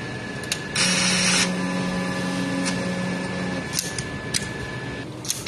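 Mechanical whirring and hissing from a sublimation printer running a head clean, with a burst of high hiss early, steady motor tones, then scattered clicks and ticks.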